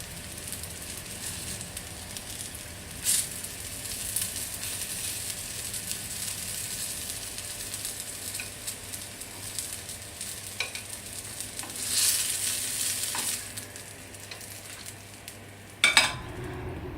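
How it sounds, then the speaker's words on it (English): Homemade falafel of fresh chickpeas shallow frying in oil, a steady close sizzle and crackle throughout with a few brief louder spits and utensil clinks near the end. "So there we go, homemade falafel, shallow fried"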